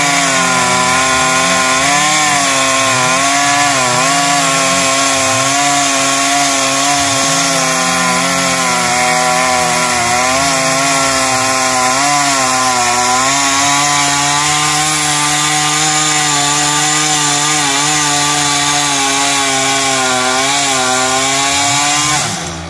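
A chainsaw runs loud and close for a long stretch, cutting a coconut tree into sections outdoors in the rain, its engine pitch rising and dipping as the chain bites.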